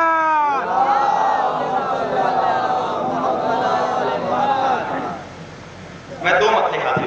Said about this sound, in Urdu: آپ حضرات ایک نعرہ سلوات پڑھیں